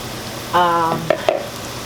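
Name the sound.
meatballs searing in a pan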